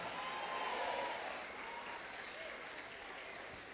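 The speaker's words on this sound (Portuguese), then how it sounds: "Aplauda o nome de Jesus, meu irmão" A church congregation applauds during a worship session, a fairly faint, steady patter of clapping that tapers slightly toward the end.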